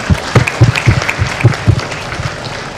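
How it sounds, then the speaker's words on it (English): Audience applause at the Woxsen Litfest 2024 literary festival following a guest's speech, a steady spread of claps with a few sharper bursts, fairly close and loud throughout. "Can we have a huge round of applause again?"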